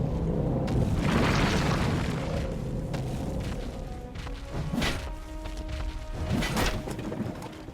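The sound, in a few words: earth-shaking footsteps of the evil overlord, from the video game Dungeons 2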